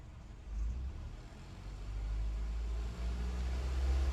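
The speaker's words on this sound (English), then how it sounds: "Now we're gonna go ahead, raise the RPM and see what happens." Saturn Vue engine with a misfire and flashing check engine light, revved upward toward 3000 RPM: a low, rough rumble that swells in stages with a brief dip, heard close and without voices.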